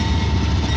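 A train passes close by in Bellwood, Illinois, giving a loud, steady rumbling roar with no break during the moment.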